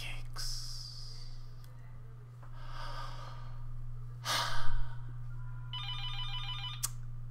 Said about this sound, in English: And my phone is ringing.